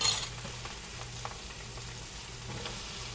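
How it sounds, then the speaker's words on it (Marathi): Onion and tomato sizzle and fry in butter in a pan, a steady close crackle with a brief louder burst at the start and occasional faint stirring knocks. "आता या बटरमध्ये हा कांदा आणि टोमॅटो एकत्रच टाकायचे"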